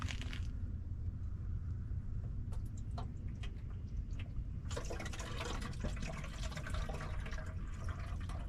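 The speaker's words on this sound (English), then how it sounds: "I got some antifreeze coolant, so I'm gonna just add just a little bit to this" Antifreeze coolant is poured into the engine of a 1989 Chevy G20 van, a faint, close liquid trickle and glug with small splashes that grow busier and denser in the second half.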